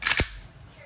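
A WE Glock 19 Gen 5 gas blowback airsoft pistol fires two sharp, close cracks in quick succession, each with a brief metallic slide snap, then a short fading tail.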